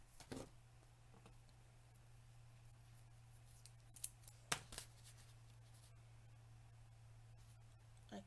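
Scissors cutting card pieces for a stamping craft project, a few brief crisp snips around the middle over a steady low hum, close and fairly quiet.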